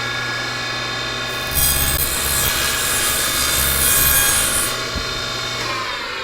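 A power saw spinning at idle bites into glued wooden strips, rising to a louder rasping cut for about three seconds before easing back to a steady motor hum.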